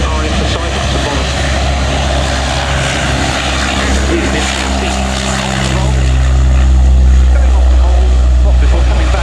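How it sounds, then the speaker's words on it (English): A Breguet Atlantic maritime patrol aircraft gets airborne at the RIAT airshow, its turboprop engines a steady, heavy drone with a deep low throb that grows louder near the end as it powers up. "I see the search and rescue element with the Atlantic about to get airborne"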